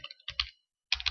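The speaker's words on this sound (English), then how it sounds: "we're going to type in function" Code being typed on a computer keyboard: a few quick, close key taps in short clusters with a brief silent gap between them.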